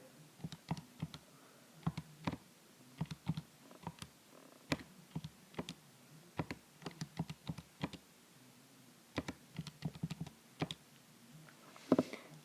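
Sharp plastic key clicks tapped out in short bursts of numbers on a calculator keypad, close and fairly quiet, with brief pauses between groups and no voices.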